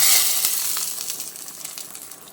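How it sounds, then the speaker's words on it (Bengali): Fried neem leaves tipped into a pan of hot vegetable curry set off a loud, bright sizzle that flares at once and then fades slowly, with steamy crackle and no voices. "এই নিম পাতা ভাজাটা এর উপরে দিয়ে দিচ্ছি"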